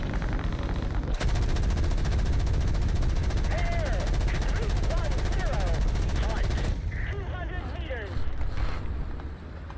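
Sustained automatic gunfire in a video game, loud and dense, rattling continuously for several seconds over a heavy rumbling backdrop before cutting out abruptly, then a brief renewed burst.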